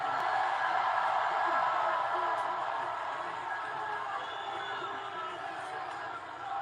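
A record crowd at a live wrestling event in Knoxville roars and cheers in a broad, sustained wash that slowly fades a little, with commentators talking over it.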